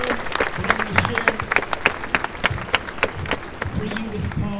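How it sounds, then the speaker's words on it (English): A protest march crowd in Orlando applauds after a Black Lives Matter rally, sustained clapping with scattered individual claps standing out and voices calling beneath it. "So let's give yourselves another round of applause."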